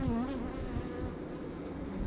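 Honeybees swarm around an open hive full of brace comb, giving a steady, dense buzzing hum with individual wingbeats drifting close by.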